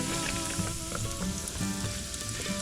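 Floured deer meat sizzles and crackles in hot oil at about 350 degrees, a steady, close frying hiss with small pops and bubbling throughout.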